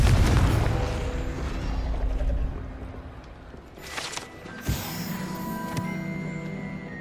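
In the video game Hogwarts Legacy, the Confringo fire spell bursts in a loud, deep rumbling explosion that slowly decays, followed by a few smaller pops and a sharp impact with ringing tones.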